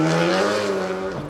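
A rally car on a forest stage holds a steady, loud engine drone with a slightly falling pitch toward the end, close and continuous with no voices.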